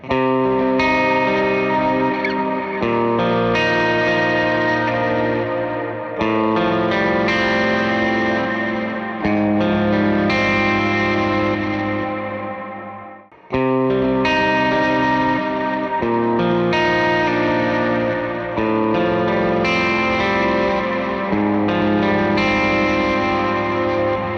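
Electric guitar with overdrive rings out in strummed chords and melodic phrases, thick and sustained with a bright edge, played alone at steady volume.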